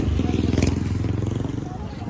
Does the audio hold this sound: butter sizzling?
no